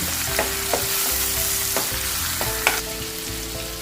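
Salted tomatoes frying in a pan, a steady close sizzle broken by a few sharp scraping stirs with no voices.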